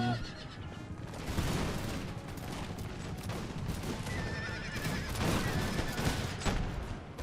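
Musket volleys rattle across a Napoleon Total War online battle as massed infantry fire, with horse whinnies and a dense, steady din of combat throughout and no talking.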